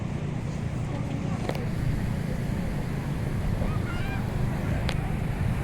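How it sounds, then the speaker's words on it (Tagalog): Strong sea waves churn against the shore under gusting wind, a constant broad roar with wind buffeting the microphone throughout. "Malakas yung alon ngayon."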